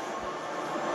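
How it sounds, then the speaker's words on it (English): Choo Choo Charles, the train monster from the video game, roars with a dense, loud mechanical rumble that holds steady for about a second with no pause. "I knew the noise, but I was kidding. That's Choo Choo Charles"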